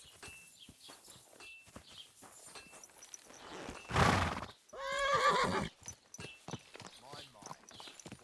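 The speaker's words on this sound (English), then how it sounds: "Beautiful horse." A horse in the medieval game Kingdom Come: Deliverance II gives a loud, close whinny, then clopping hooves and footstep thuds follow, with a voice speaking around them.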